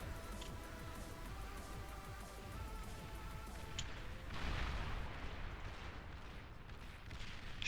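Artillery firing in the strategy video game Beyond All Reason, rolling low booms and crackling impacts over a constant battle rumble, with a heavier burst of blasts midway.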